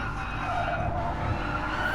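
Race cars lapping the Brands Hatch circuit, a steady loud engine drone with tyre noise running throughout, no voices over it.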